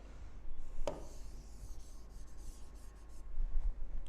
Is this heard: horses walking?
no